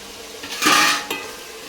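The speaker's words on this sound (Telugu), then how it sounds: "బాగా కలిపేసుకోవాలి" Yogurt, chopped coriander and mint are stirred into vegetable biryani in a pot: a short burst of scraping and mixing noise swells for half a second, followed by a quick second scrape, with no talking.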